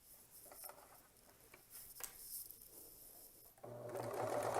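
A sewing machine stitches a ruffled apron seam with about a half-inch seam allowance, a steady close mechanical whir that grows louder and denser toward the end.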